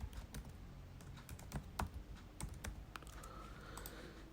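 Computer keyboard typing of a line of text, a quiet series of sharp, irregular key clicks close to the microphone with no voice over them.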